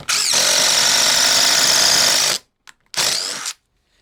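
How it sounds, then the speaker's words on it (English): A cordless impact driver running on its third speed setting gives a loud, rapid hammering whir for about two seconds, then a shorter second burst, close up with no talk. "Now the impact driver. I'm doing this on third speed."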